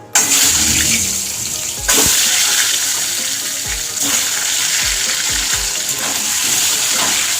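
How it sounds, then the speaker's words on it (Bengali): Eggs fry in a pan with salt and turmeric, giving a loud, continuous hissing sizzle, with a few dull thumps and scrapes from a spatula along the way. "ডিমগুলো ভেজে নেবো ভালো করে।"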